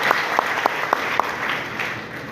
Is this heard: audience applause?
yes